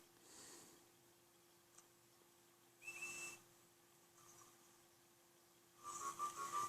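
A faint, thin steam locomotive whistle sounds in short blasts over a quiet hissing background, with a higher pair of toots near the end.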